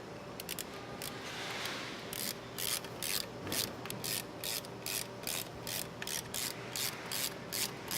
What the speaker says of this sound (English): While he's securing that cover back in place